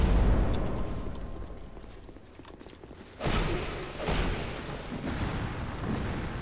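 Booming explosions from the video game Dark Souls 2 fire in succession, a sharp burst followed by another thud a second later, loud over a rumbling game background.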